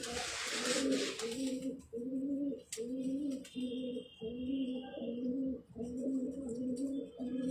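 A pigeon coos in a steady repeating rhythm, low and throaty, close by, with faint background noise and a brief high tone partway through.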